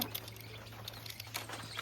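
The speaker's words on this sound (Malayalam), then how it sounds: "മഴക്കാലം പിറന്നു അയ്യോ തുള്ളിട്ടു മഴ" Light raindrops begin to fall at the start of the monsoon, a faint, scattered patter of soft taps against a steady low hum.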